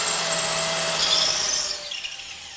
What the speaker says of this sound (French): je n'ai plus qu'à percer aux endroits marqués